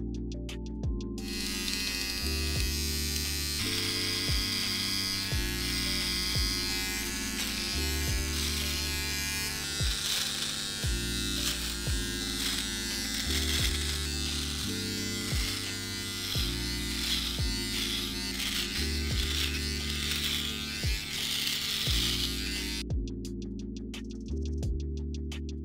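A Philips Norelco OneBlade electric trimmer fitted with its comb buzzes steadily while trimming a beard, a close, continuous motor drone with small shifts in pitch and load as it moves over the hair, then stopping near the end.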